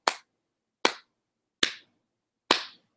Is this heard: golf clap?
yes